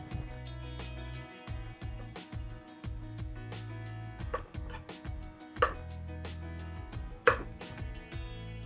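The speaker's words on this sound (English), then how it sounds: "So I'm going to cut them down just a bit." A knife chops long carrots on a cutting board, with a run of sharp, steady cuts close by over a low, steady tonal background.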